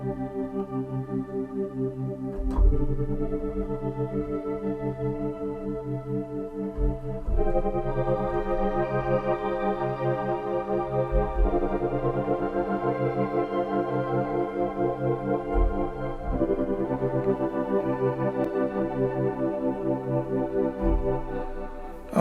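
Sustained CS-80 synthesizer plugin chords with effects, a warm, evolving tone and a pulsing rhythmic texture, shifting harmony every few seconds, no voices.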